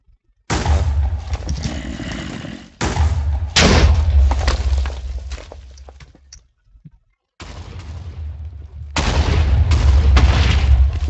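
Explosions in Minecraft with the Instability mod rumble as long, loud, heavy booms, one after another with a short gap of quiet between them, and no talking.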